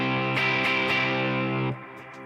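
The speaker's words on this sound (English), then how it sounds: "And then a little more distortion." An electric guitar runs through a distortion pedal, holding a thick, buzzing sustained chord with a few sharp picked accents, loud and close, before the sound cuts off abruptly and leaves a faint tail.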